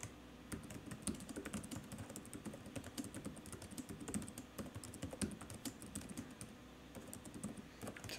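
A computer keyboard is typed on in a rapid, steady run of soft clicks, faint and close, with no talking.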